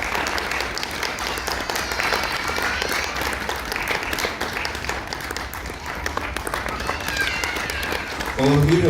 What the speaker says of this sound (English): We need more clapping